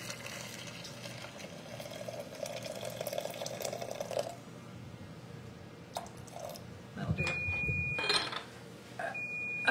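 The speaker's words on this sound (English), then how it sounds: "Get the water over that." Hot water poured over loose mulled mead herbal tea, a soft steady pour and trickle at first, then a quieter stretch followed by light splashes, clinks and drips close by.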